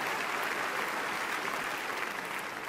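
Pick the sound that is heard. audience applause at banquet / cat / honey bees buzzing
audience applause at banquet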